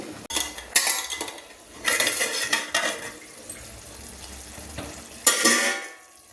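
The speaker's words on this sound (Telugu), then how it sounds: "ఇప్పుడు ఈ టమాటాలు సిమ్లో పెట్టి మగ్గనిద్దాము" Tomatoes cooking in a pan for egg curry, with bursts of scraping and clinking as a spoon stirs against the pan between quieter stretches of low bubbling.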